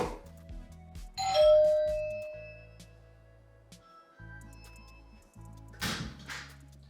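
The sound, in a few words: battery doorbell ringing its home chime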